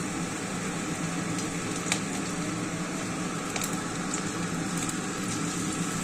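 Chicken balls for chili chicken frying in hot oil, a steady loud bubbling sizzle with occasional sharp pops and crackles, continuous and close throughout, no voices.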